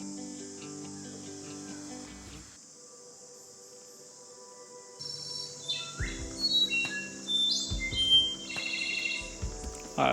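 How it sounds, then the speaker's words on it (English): A wild bird calls in a Guatemalan cloud forest where quetzals live, giving scattered clear chirps and tweets over a steady insect and cricket drone, faint and distant at first, then a little closer and louder toward the end. "I hope you guys could hear that bird."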